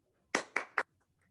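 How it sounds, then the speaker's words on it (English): Three quick, sharp hand claps ring out close by at an online tax information session, then fade into near silence. "Please give a big round of applause for Mr."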